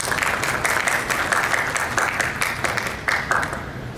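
Audience applause at a pension regulations seminar in Brazil, a dense steady patter of many hands clapping close by for several seconds, swelling slightly near the end before tapering off.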